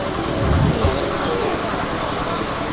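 Heavy rain pours down on an outdoor sandiwara theatre show in Sukra, Tegal, Indonesia, a loud dense steady hiss with a few low thumps, while voices talk faintly beneath it.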